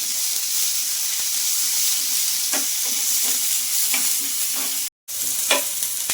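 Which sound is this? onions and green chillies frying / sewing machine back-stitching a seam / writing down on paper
onions and green chillies frying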